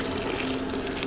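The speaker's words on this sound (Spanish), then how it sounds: "Aquí le ponemos el agüita." Water pours steadily into maize flour, a continuous close gushing splash lasting about a second with no voices.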